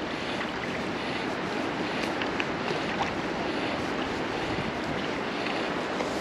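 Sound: wind

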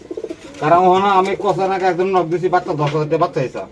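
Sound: pigeons cooing

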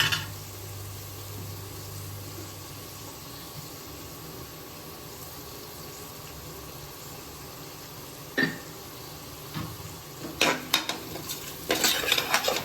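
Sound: sautéing chopped tomatoes with salt in a pan

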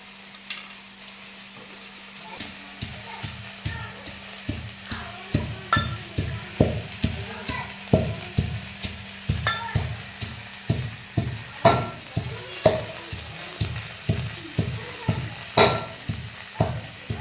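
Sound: vegetables sautéing in oil in pan

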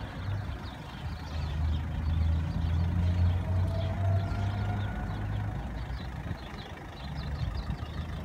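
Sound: car engine idling while being parked at driving test

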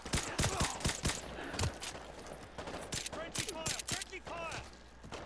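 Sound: gunfire in Modern Warfare 2 Remastered video game

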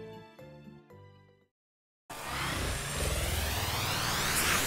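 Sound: car driving off in the video game Dragon Ball Z Kakarot

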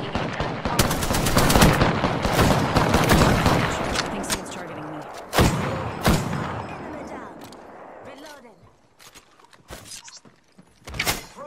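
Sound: gunfire from enemies in a video game

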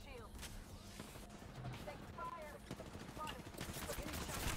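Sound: gunfire in a battle royale video game

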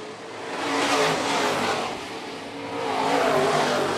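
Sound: modified race cars racing through corners at raceway

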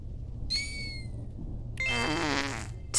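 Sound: fart sound effect in The Hex video game

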